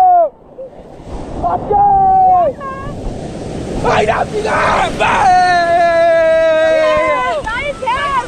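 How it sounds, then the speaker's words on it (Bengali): Surf rushes and crashes over wind noise at Digha sea beach, close and loud, while people shout and call out over the waves. "বন্ধুরা ঢেউ দেখো"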